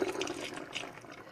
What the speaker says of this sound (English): So add some water here.